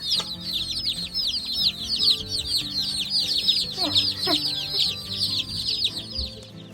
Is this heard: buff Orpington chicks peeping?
yes